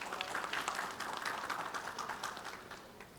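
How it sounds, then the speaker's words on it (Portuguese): Conference audience at the ABSOLAR 2024 national solar energy meeting applauding a speaker, a dense patter of many hands clapping that slowly fades, heard from within the room. "Uma salva de palmas"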